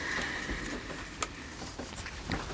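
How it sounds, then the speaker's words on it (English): Steady rain falls outside an off-grid cabin, a soft continuous patter with a few sharper drips and taps, heard alone with no talking. "rain's moving in again. Hasn't stopped."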